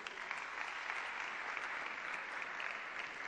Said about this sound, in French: Sous vos applaudissements, Mbaya Sharon Rose.